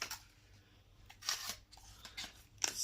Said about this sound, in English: Just rip that open.